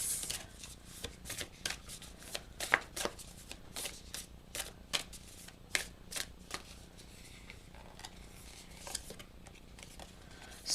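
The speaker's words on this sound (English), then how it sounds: "one card from the Moonology deck to get a message from Spirit" A Moonology oracle card deck being shuffled by hand, with a quick run of crisp riffling card flicks, close and fairly quiet.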